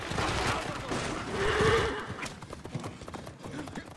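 Hooves clip-clop at a steady gallop from a horse in Assassin's Creed Origins, with a brief neigh mid-clip, loud and close over a game soundscape.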